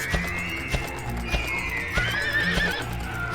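A horse neighs and whinnies loudly over clopping hooves, with agitated snorts as it bucks under a rider, all in a busy, close video game soundscape from Dragon Quest VIII.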